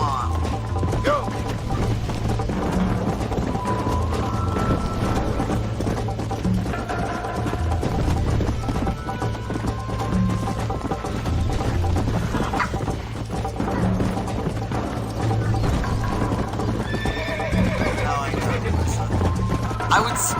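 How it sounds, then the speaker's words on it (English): A horse runs in Red Dead Redemption, with a steady rhythm of hoofbeats throughout amid game ambience that includes clucking fowl and low mechanical hum; no neigh stands out. "Come on, horse."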